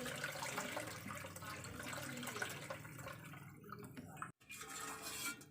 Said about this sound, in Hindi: अब इसके ऊपर हम ठंडा पानी डालेंगे ताकि अब आपस में जुड़े ना।